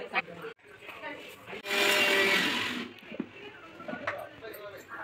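A kitchen mixer grinder whirs loudly for about a second, grinding cardamom into powder, with voices talking before and after the burst.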